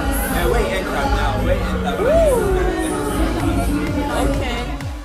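Crowd chatter fills the space at a fashion week show, a dense, steady babble of many voices with occasional laughter and one nearer voice rising briefly above the hubbub.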